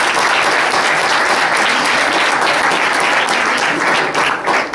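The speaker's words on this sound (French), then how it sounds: "On pouvait l'applaudir aussi, bien sûr." Sustained, loud applause fills a French political campaign meeting, dense clapping from a sizable crowd holding steady for several seconds.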